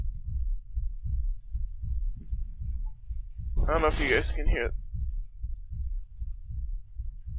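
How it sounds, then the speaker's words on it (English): A steady, low thumping heartbeat plays throughout in the horror video game Layers of Fear. Someone speaks briefly over the rhythmic pulses midway. "It's like a heartbeat."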